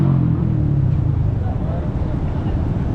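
A loud low rumble of engines and vehicles passing close by on Bukit Bintang street at night in Kuala Lumpur, Malaysia, mixed with someone talking over the steady road noise.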